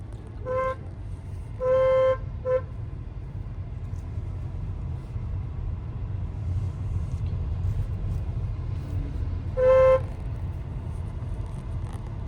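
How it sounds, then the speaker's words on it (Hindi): Three short car horn toots with one sustained honk, loud and close, over a steady low traffic rumble. "लॉन्ग हॉर्न प्रेस करो"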